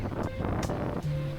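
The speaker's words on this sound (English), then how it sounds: "I don't know if you can hear me through all this wind." Gusty wind buffeting the microphone on a coastal kayak trail, loud low rumble with bursts of hiss and water wash, continuous and close, no clear talking.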